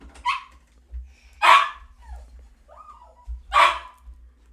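A ten-year-old dog with an injured back and neck barks three times, loud and close, with soft whimpers and whines between the barks and no talking.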